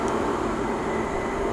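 A train passing by in Gothenburg, Sweden gives a steady, broad rumble with a faint whine above it, loud and close, holding level through the whole moment.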